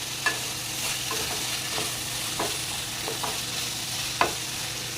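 Vegetables sizzle with butter on a tava for Mumbai-style pulav, a steady close frying hiss punctuated by a few sharp scrapes and taps of a spatula stirring across the metal.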